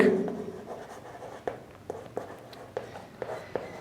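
Pen strokes on paper are heard up close as someone writes by hand, short taps and scratches at an uneven pace, with a brief voice at the very start.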